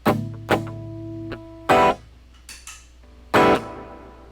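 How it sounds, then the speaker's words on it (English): Guitar notes and muted chord strums played in short bursts, each ringing out with a reverb tail between sparse hits. "It's a pretty nice reverb."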